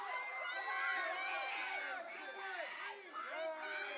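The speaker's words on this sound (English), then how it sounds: "Man, this crowd's so loud." Loud crowd at a live fight event, a dense wash of cheering and shouting voices filling the whole stretch at a steady level, with whoops rising above it.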